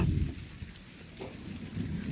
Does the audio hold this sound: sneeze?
no